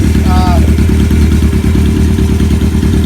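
A 1974 Kawasaki Z1 900 motorcycle engine runs steadily at close range, a loud, even, throbbing rumble, with a brief voice heard near the start.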